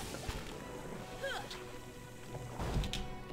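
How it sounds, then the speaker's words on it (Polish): Rain falls steadily in Pillars of Eternity, with a deep thunder rumble rising near the end, moderately loud against a faint background. "Tak, pioruny."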